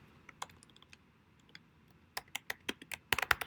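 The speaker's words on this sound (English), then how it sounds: "And I'm just going to type in click" Keys on a computer keyboard clatter in short bursts, sparse light taps at first and then a quicker run of louder clicks, close by and with no voice over them.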